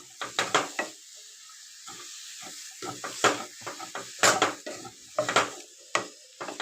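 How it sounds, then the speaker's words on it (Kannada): Salt being stirred into a paneer and bottle gourd curry in a pan: a close, irregular run of spoon clinks and scrapes against the metal, with soft wet stirring between strokes and no voices. "ಉಪ್ಪು ಹಾಕ್ಕೊಂಡು ಚೆನ್ನಾಗಿ ಇದನ್ನು ಮಿಕ್ಸ್ ಮಾಡ್ಕೊಳ್ಳೋಣ"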